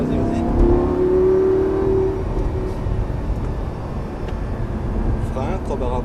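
A Lamborghini Gallardo LP 560 accelerates on a track, its engine note rising in a strong rev early on before settling into a steady drone, with an instructor talking over it in the cabin.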